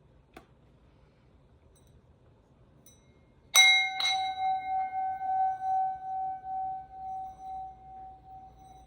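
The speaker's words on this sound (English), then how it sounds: "I did the bell" Bell struck once, a small tap just before, then a bright clear ring that sustains and slowly fades with a gentle pulsing shimmer, close and alone in a quiet room.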